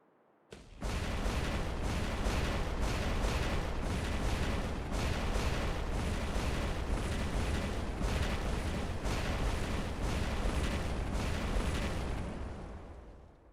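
Sustained heavy gunfire and rumbling artillery bursts from a video game skirmish, a dense continuous barrage at steady loudness for about twelve seconds with regular sharp reports throughout.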